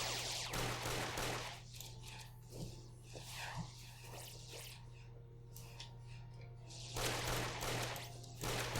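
Rapid bursts of gunfire from the DynaMarisa 3D game, a Touhou fan shooter, crackle in dense volleys near the start and end with a softer stretch between, over a steady low hum.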